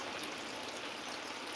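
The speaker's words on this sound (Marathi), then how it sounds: "आता मित्रांनो पाऊस सुद्धा आता वाढत पण आहे" Rain in the hills during a morning downpour, a steady faint hiss of falling water with no voices.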